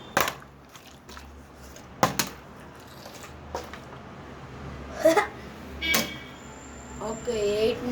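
Plastic water bottle crinkling and crunching as it is squeezed, several sharp crackles over a steady background hum, with a voice speaking.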